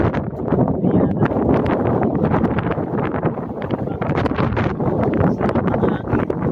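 Strong wind buffets the microphone in gusty, rumbling bursts during a typhoon in Nasugbu, Batangas, loud and continuous with no speech.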